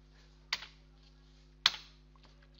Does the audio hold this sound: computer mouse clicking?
yes